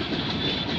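A CN 435 freight train loaded with steel coils rolls past slowly at Bayview Junction, a steady, dense rumble of wheels and cars filling the whole moment without a break.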